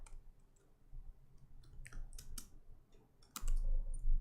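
Sparse, quiet clicks of typing on a computer keyboard, with scattered keystrokes that bunch into a few short runs over a low background hum.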